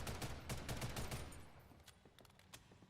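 Rapid gunfire bursts from a weapon in the shooter game Ghost in the Shell: First Assault, a dense string of quick cracking shots at first, then sparser single taps trailing off.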